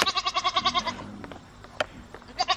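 Goats bleat in a rapid run of loud, close calls, then a quieter stretch with small clatters and knocks before another bleat at the end.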